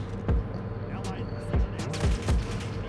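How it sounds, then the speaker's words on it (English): Fennec SMG in a video game firing in several short rapid bursts, each a sharp crack followed by brief pauses, with a steady game background hum throughout. "It's like you have a permanent attachment for rapid fire for an SMG. That's how fast this gun fires."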